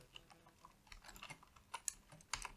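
Close, quiet clicking of keys on a computer keyboard, irregular bursts of typing with short pauses and a few sharper taps.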